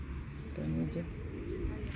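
Pigeons coo softly on the ground, a low murmuring coo under steady outdoor background noise, close but faint.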